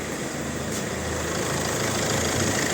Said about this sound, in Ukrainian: Мотор работает отлично.